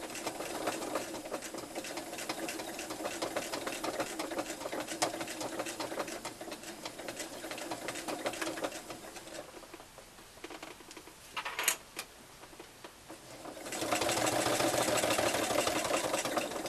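A sewing machine stitches in the ditch down the front of a face mask, running steadily for several seconds, pausing briefly, then starting up again.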